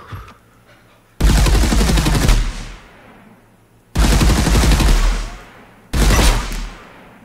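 Loud, sustained bursts of rapid automatic gunfire from a weapon in an Unreal Engine 4 third-person shooter test, three long volleys, each ending in a fading echo, separated by near silence.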